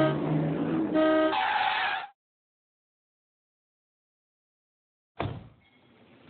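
A car horn blares in a couple of short honks over road noise. Silence follows, then a sudden loud burst of vehicle sound.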